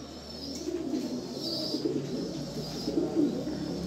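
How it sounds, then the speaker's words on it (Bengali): A female pigeon held in the hand gives soft, low, repeated coos, close and faint, over a quiet background. "এই হচ্ছে মাদি কবুতরটা"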